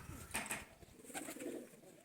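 A blue female pigeon coos softly nearby in a few short, low calls, with faint bird rustling and background noise.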